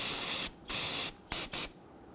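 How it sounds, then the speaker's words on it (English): Hissing aerosol spray solvent in four bursts, two long and two short, loud and close with brief silences between them, sprayed down during a brake master cylinder replacement on a Dodge Charger. "Using some spray solvent, go ahead and spray that down."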